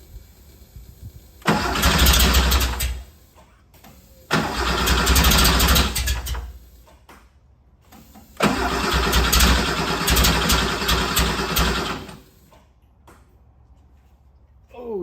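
A 1974 Porsche 911S engine cranks and catches in three loud bursts, each running several seconds before cutting out, with quiet gaps between attempts.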